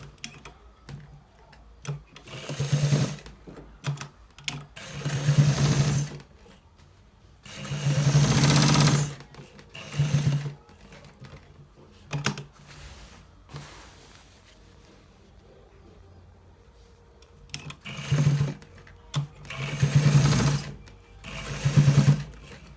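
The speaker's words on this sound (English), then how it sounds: "So guys, we are stitching it to where exactly we should be stitching it." A sewing machine stitches a designer shirt collar in repeated bursts of rapid mechanical whirring, several short runs and a few longer ones separated by quiet pauses, close and loud with no talking.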